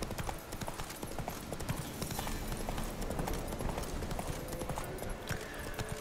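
Roach the horse trots in The Witcher 3, hooves clip-clopping in a steady rhythm, close and continuous over outdoor game ambience.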